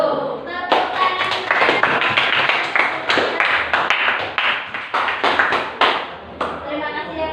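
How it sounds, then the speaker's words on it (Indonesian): A classroom group gives steady applause after a group presentation during a teacher supervision session, with dense overlapping claps lasting several seconds and voices mixed in. "Tepuk tangan."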